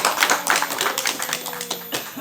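A small group clapping hands at a community bank sampah secretariat inauguration in Sukabumi, a brisk patter of claps at close range, mixed with voices talking over it.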